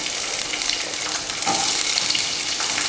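Chopped onions with fennel, cardamom, cloves, cinnamon, garlic and ginger sizzle and fry steadily in hot oil in a pan for a Kerala kadala curry, a close, continuous hiss with a brief stir midway and no talking.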